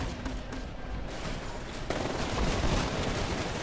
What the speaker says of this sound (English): Seems to be a lot of firing going on.